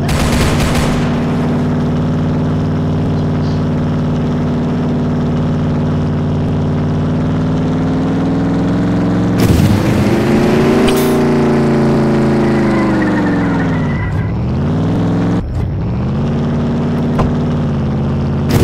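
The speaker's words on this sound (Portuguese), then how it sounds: "Dirigindo e atirando na cara" Driving and shooting in the Roblox game Mad City: a loud, continuous vehicle engine drone shifts pitch as it speeds up and slows, with a few sharp gunfire bursts and impacts breaking through the steady roar.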